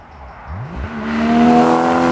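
A Porsche Cayman GT4 engine revs up in one rising, swelling surge, loud and close with a strong, clean tone that builds to the end.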